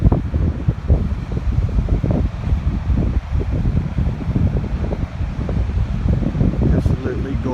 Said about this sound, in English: Yeah, it's windy out today.